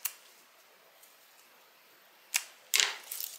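Scissors make tiny snips in zipper tape near the zipper teeth while a beverage bag is being sewn. A few short, crisp clicks are spread apart against near silence, with the last ones coming in a quick cluster.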